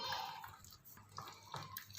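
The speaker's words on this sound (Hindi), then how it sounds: "हम थोड़ा थोड़ा पानी डालते जाएंगे और इसको मिक्स करते जाते हैं।" Water is poured a little at a time into eggplant fritter batter, making a faint, splashy trickle with small drips and gurgles as the batter is mixed nearby.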